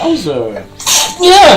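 A single sneeze bursts out amid casual talk, short and close, with voices speaking just before and after it.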